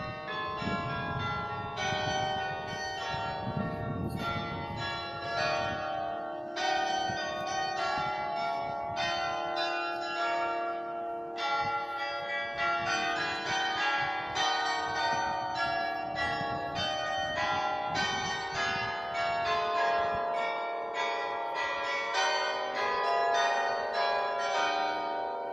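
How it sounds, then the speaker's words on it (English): Church bells ring out over the town of Culemborg in the Netherlands, several bells pealing in a steady overlapping sequence with rich lingering tones, loud and continuous with faint street background underneath. "Oh, the bells."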